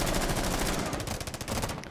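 Rapid gunfire from a video game shooter fills the whole stretch, a dense automatic rattle of overlapping shots up close, loud and continuous with slight dips near the end.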